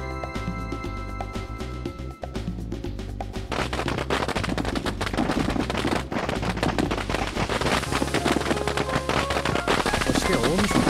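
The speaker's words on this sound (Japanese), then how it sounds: "大晦日、街中を賑わせる花火" Rapid, crackling bursts of video game fireworks pop and bang over steady musical tones, growing denser and louder as the string of explosions continues, in the PlayStation game Sampaguita.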